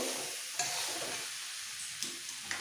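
Soybean chunks and potato are stir-fried together in a pan, giving a steady, close sizzle with a few sharp scrapes and clicks of the spatula as the mixture is turned.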